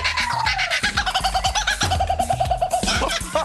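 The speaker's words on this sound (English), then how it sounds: "And that's the kookaburra." An Australian kookaburra, the laughing bird, calls up close and loud in a rapid, rhythmic run of chuckling cackles that rises and repeats, with a lower pulsing chatter underneath.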